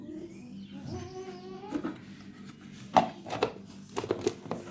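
Turbo Top food processor whirring as it mixes icing sugar with almond powder for macarons, its motor rising in pitch before giving way to irregular chopping knocks and clatters close by.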